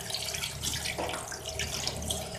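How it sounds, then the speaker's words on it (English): Tap water runs steadily over a catfish to rinse salt from its body, a close splashing flow with no speech. "I need to now rinse the salt from the body of the fish."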